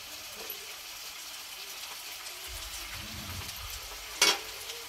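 Chickpeas sautéing in a pan make a faint, steady sizzle with soft stirring, then a brief sharp clink near the end.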